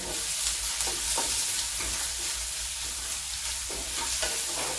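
Chopped onion with salt frying and being stirred in a pan, giving a steady hissing sizzle with frequent scraping strokes. Nobody speaks.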